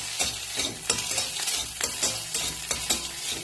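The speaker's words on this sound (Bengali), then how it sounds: "এগ ফ্রাইড রাইস করবো বলে ডিমের ভুজিয়াটা করে রাখছি" Scrambled egg for egg fried rice sizzles in a hot pan while a utensil stirs it. The steady frying hiss is close and constant, punctuated by regular scraping stir strokes about twice a second.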